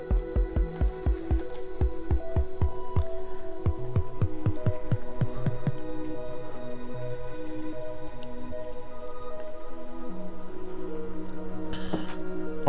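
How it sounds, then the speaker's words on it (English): Note-block bass drum hits in the Minecraft music room fall as a steady run of soft, low thumps for about five seconds, then give way to sustained musical tones over a constant hum. "It's the sound of a bass drum."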